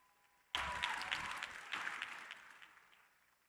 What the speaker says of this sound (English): I feel like that should have another round of applause.